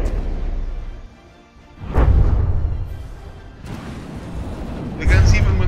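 Tank guns firing in a video game pitting a Mammoth tank against a Honky Tonk, heard as heavy booms and rumbling blasts at about two and five seconds over a continuous low rumble, with the shots slightly out of sync.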